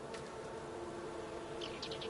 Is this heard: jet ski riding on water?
no